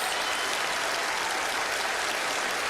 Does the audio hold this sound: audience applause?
yes